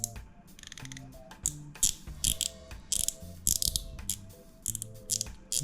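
A fishing reel's drag ratchet clicks in quick irregular bursts as the drag is loosened, with a mechanical rattle over a low gear-like hum, close and fairly loud.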